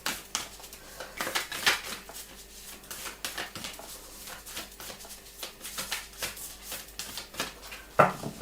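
Tarot cards being shuffled by hand, a soft, close riffling and rustling that comes in bursts, with a louder flick near the end and no talking.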